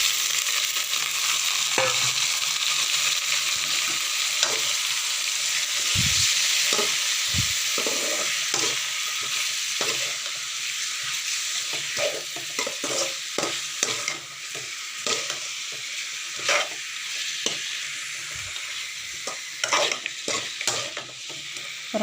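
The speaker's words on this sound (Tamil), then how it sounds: "இப்போ அந்த சிக்கன் நம்ம போட்டுக்கலாம்." Chicken pieces frying in oil in a pan for a simple chicken gravy, a continuous loud sizzle with scraping and clinking as a spoon stirs them, steady throughout, with no talking.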